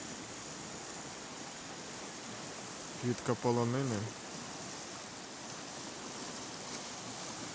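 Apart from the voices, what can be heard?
Pinya river flowing near Solochyn, Zakarpattia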